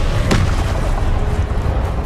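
Casting the Expelliarmus spell in Hogwarts Legacy produces a sharp magical burst early on, then a dense, booming rumble that continues steadily beneath it.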